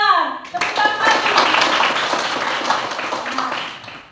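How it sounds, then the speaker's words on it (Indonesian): Schoolchildren in a classroom burst into brisk clapping right after a teacher's short spoken line, the patter loud at first and tapering off over a few seconds. "Tepuk tangan lagi"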